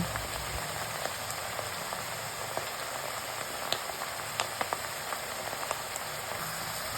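Chopped radishes frying in a hot pan, a soft, steady crackling sizzle with scattered small pops throughout, fairly quiet and with no talking.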